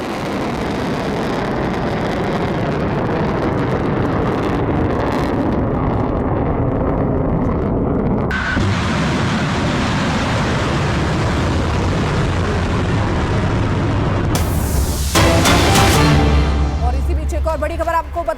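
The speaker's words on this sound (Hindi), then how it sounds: "उस मिसाइल का उड़ना सुनिए" Iranian missile attack on Israel: a continuous loud roaring rush of a missile in flight, shifting midway, then a heavy explosive blast near the end, with broadband rumble throughout.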